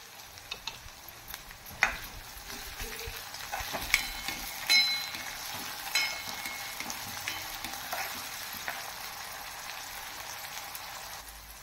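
Chopped onion and tomato frying in oil for green pea usal give a faint, steady sizzle close by, with a few soft stirring scrapes and light crackles.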